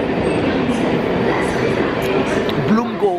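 A train runs steadily with a loud continuous rumble and faint rail squeal near the end, while people talk over the noise.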